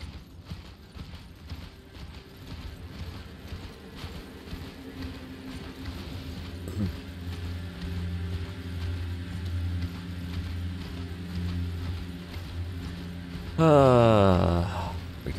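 Horse hooves clip-clop steadily at moderate loudness while riding in the video game Elden Ring, with a brief rising whinny-like sound near the end.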